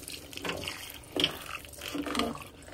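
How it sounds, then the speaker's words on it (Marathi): Hot water is poured into a rice and cucumber batter for a traditional Konkan cucumber cake, a soft splashing pour with a couple of louder surges, close and with no talk. "त्याच्यामध्ये अजून थोडंसं पाणी घालायचं आहे. गरम पाणी घातले मी."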